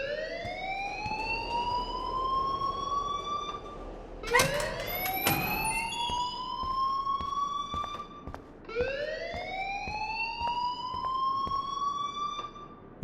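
In the game Life Is Strange, an alarm wails in rising, sliding siren sweeps that repeat in three long cycles, with a sharp clatter of knocks in the middle and a steady background hum.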